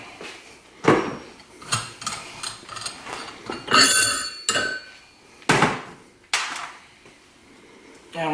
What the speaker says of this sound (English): And we're going to use the spring compressor tool. Put it in the vise here.